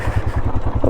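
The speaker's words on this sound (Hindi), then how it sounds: "वैसे ऑफ रोडिंग बाइक है" An off-road motorcycle rides along a rough, broken road, its engine thrumming in a steady low pulsing beat with some rattling, close and loud and alone.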